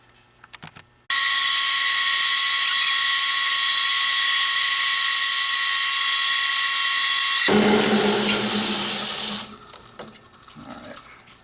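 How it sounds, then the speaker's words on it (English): A milling machine cuts a design into a titanium ring, starting abruptly as a loud, steady high-pitched whine with a bright tonal hum, then shifting to a rougher, grinding noise before winding down to quiet clicks. "let's get it over to the mill and put our design in it"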